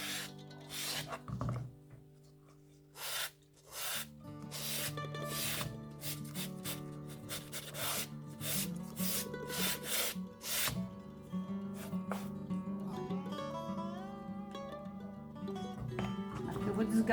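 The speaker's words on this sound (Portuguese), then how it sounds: "Por isso que eu estou trabalhando com a lixa 320." A decorated wooden box gets rubbed down with 320-grit sandpaper, repeated rasping strokes in uneven bursts, close and fairly loud, while a voice talks faintly in the background.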